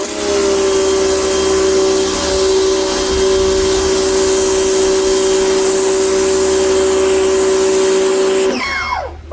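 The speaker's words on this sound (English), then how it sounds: "so I have a pressure washer" Loud, steady high-pressure spray from a pressure washer cleaning a driveway after an outdoor cleaner treatment, with a constant motor whine that holds for nine seconds and then cuts off abruptly near the end.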